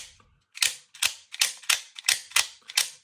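A Benchmade out-the-front knife blade snaps out and back repeatedly, seven sharp mechanical clicks with a thunking recoil in a steady rhythm, close and alone.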